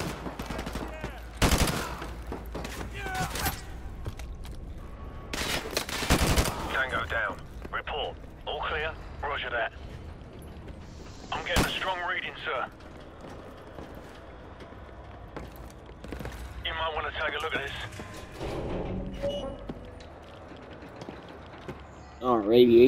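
Scattered gunshots crack loudly in Call of Duty: Modern Warfare, with a few sharp bursts early and sporadic fire later, while someone talks in between and over the shooting.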